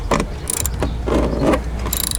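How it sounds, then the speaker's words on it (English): A ratchet wrench clicks in quick repeated bursts while size 10 bolts are loosened on a car, close and loud, with a metallic turning grind between the clicks. "Now we need to take off these bolts, which I think is gonna be a size 10."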